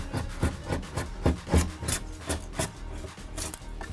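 A homemade razor-blade tool, a razor blade held in pliers with electrical tape, scrapes window tint off glass in quick repeated rasping strokes, close and fairly quiet, with no talking.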